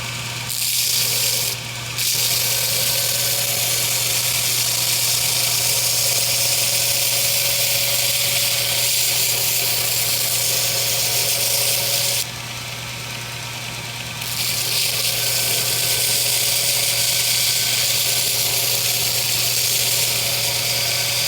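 Knife blade held under heavy pressure against a grinder for hollow grinding: a continuous loud abrasive hiss over a steady motor hum, broken by a brief lift-off near the start and a quieter gap in the middle.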